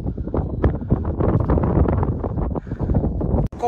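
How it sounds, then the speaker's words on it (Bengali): Strong wind buffets the microphone in a vast rocky desert, a loud, continuous gusting roar with uneven surges and a sharp click near the end. "এত হাওয়া দিচ্ছে, ওরে বাবা মনে হচ্ছে উড়েই যাব।"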